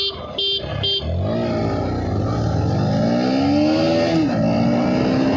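A Pulsar NS125 and an Apache 160 4V motorcycle drag racing, loud engine revs rising steadily in pitch through the gears after a brief horn-like burst at the start.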